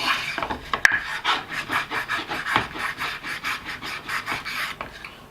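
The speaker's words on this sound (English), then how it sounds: "let's run it through the wood a couple times. Make a couple slices in it." A copper kitchen knife drawn repeatedly across a piece of wood, rhythmic raspy scraping strokes, about a dozen in steady succession, close and fairly loud with no talking.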